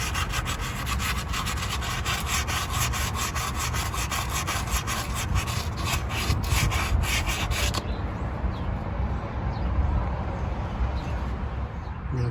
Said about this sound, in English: Just gonna go ahead and sand it all the way around.